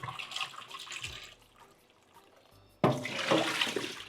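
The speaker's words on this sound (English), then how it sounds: "Pour all of that off and rinse." Running tap water splashes into a bowl as yellow yam pieces are rinsed, a steady bright rush that fades to a trickle, then surges back loudly near the end.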